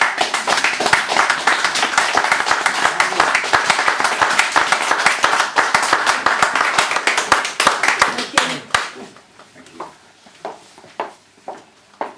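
Dense, sustained audience applause for a poetry act fills most of the room, then thins out and dies away into a few scattered claps near the end.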